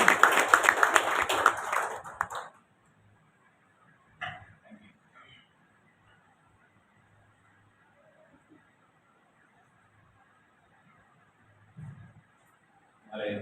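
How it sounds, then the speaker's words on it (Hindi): Audience applause greets a speaker taking the stage at a district event on ending bonded and child labour in Udaipur. Dense clapping fills the first two and a half seconds, then cuts off into near silence with a few faint knocks. "आइए हम ताली बजाकर उनका मंच पर स्वागत करते हैं"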